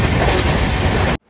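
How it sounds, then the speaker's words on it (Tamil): Passenger train on a Chennai to Mysore route rumbling steadily on its rails, a loud, continuous broadband roar and clatter that cuts off abruptly near the end. "ரொம்ப அஃபோர்டபுளான ட்ரெயின், நல்லா கம்ஃபர்டபுளான ட்ரெயின்"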